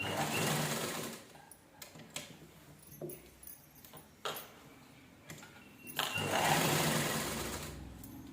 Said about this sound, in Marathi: डबल डबल स्टिच करताना स्टिच करून घ्यायचं व्यवस्थित